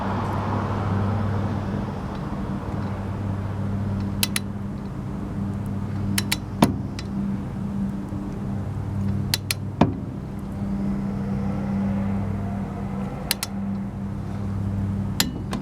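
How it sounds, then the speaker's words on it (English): Cars driving past on a road, a steady rumbling traffic wash rising and fading as vehicles pass, punctuated by sharp metallic clicks and taps nearby. "wait till the cars go by."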